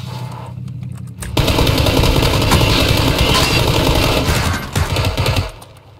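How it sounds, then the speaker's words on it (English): Motorcycle engines in the battle royale game PUBG, a loud rough revving drone that kicks in abruptly after a quieter start and runs steadily before fading near the end. "All I hear is motorcycles."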